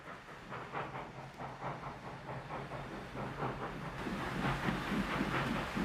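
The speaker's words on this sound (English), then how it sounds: "This is the train with the women that he said was supposed to be arriving." A train arriving in a 1993 World War II film scene, with rhythmic rolling clatter and a steady hiss building slightly louder as it approaches.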